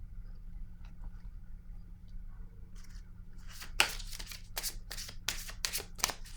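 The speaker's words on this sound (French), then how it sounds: "Bon, là, je vais piger une carte rose." Oracle cards are shuffled and a pink card drawn from the deck, a burst of quick papery riffling and flicks that starts midway and carries on in close, crisp bursts over a low steady hum.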